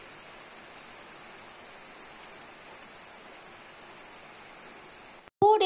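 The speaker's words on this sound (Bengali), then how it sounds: "পুরো ঝমঝম করে বৃষ্টি হচ্ছে যাকে বলে একদম" Heavy rain pours steadily as a dense, even wash of noise throughout, close and constant, then cuts off abruptly near the end, where a brief louder sound follows.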